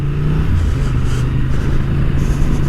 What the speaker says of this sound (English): I do like the tone of that engine.